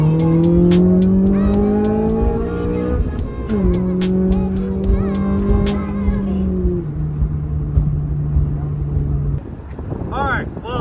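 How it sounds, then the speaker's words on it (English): A Honda Civic engine revs hard in rising sweeps, dropping between gears and then climbing again, while loud voices talk and shout over it. Sharp clicks are heard throughout, and the clip ends in a faint, wavering tail. "how do you hit VTEC in a Honda Civic?"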